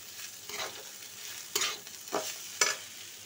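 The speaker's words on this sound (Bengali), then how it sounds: "দেখো এদিকে আলু ভাজা বসিয়ে দিয়েছি" Potatoes frying in a hot pan in a home kitchen, with a faint steady sizzle broken by a few sharp stirring scrapes and spatters, close by and without talk.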